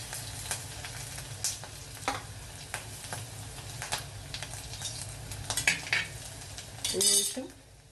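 Mustard seeds, ginger, onion and chopped dried chili fry in a pan for a kovakka-leaf thoran, giving a close crackling sizzle with scattered pops and the clink of a spoon stirring against the pan.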